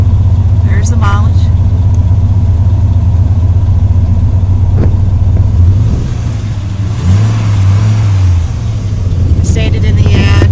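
2002 Dodge Ram truck engine running at a steady idle, a loud low rumble sustained throughout with a brief shift in pitch near the middle, with someone talking over it.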